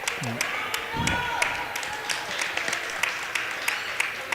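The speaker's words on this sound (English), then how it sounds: "Hannah Geis getting a friendly clap as she hits the bench" A light, friendly round of applause in a gym at a girls basketball game as a player heads to the bench, scattered claps mixed with crowd noise and a commentator's voice over it, moderately distant.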